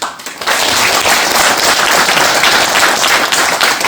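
Loud, dense applause from an audience at a regional urban railway briefing in Gyeonggi Province, a steady roar of many clapping hands filling nearly four seconds after a brief quieter start.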